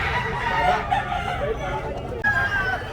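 A fighting rooster crows at the Malolos pet market in the morning, one loud, drawn-out cock-a-doodle-doo close by, over market chatter and background bustle.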